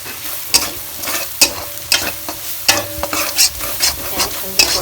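Spice paste being stirred and fried for a fish curry in a pan, with repeated scraping strokes of the spoon at a steady rhythm over a continuous close sizzle.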